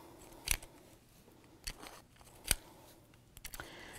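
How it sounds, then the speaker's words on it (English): A small Fiskars star punch cuts stars out of resin paper, giving several sharp, crisp clacks spaced about a second apart, near and distinct over a quiet background. "use this little punch from Fiskars to punch out stars out of the resin paper"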